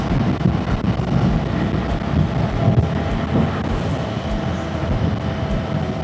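Steady, loud wind roar buffets the microphone while a KTM motorcycle is ridden, the engine buried in a dense, continuous rush of air with no voices.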